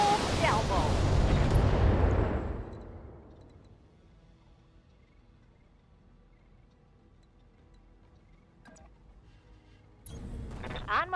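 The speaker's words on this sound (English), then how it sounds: "Firing a full salvo." A BattleTech mech unleashes a full weapons salvo in the video game, a loud roaring blast lasting about two seconds that decays into quiet rumble, followed later by a short burst of further noise.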